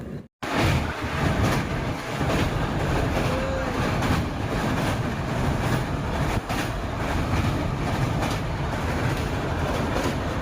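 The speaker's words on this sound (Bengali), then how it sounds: "মানে ইঞ্জিন আছে যার জন্য এত শব্দ" A passenger train rolls along on a long journey to another state, its engine and wheels making a loud, steady, continuous rumble with faint rhythmic clatter, heard from inside the carriage.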